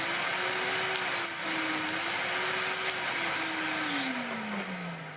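Numatic NRV200 vacuum cleaner running on a replacement 1400 W motor, a steady, close, loud whine with a gently wavering pitch that slides lower near the end, with no talking.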